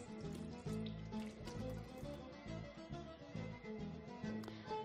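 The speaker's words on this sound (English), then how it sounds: "So I'm gonna wash" Tap water runs steadily into a sink while hands are washed under it in a home kitchen, a close, even splashing flow with small shifts as the hands move through the stream.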